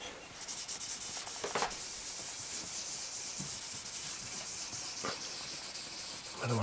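Danish oil is rubbed onto the neck of a 1997 Squier Affinity Stratocaster with a cloth, giving a soft, steady hissing rub with a few brief louder swipes, close and alone.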